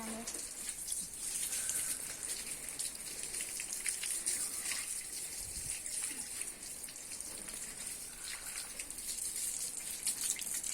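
A new bicycle being washed with water, a steady close splash and trickle running continuously with faint scattered drips and clatters.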